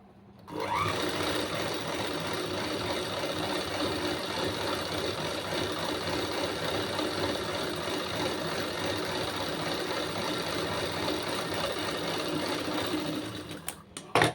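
A sewing machine runs steadily, stitching along a blouse border with a continuous, even whirring drone close by that stops abruptly at the end.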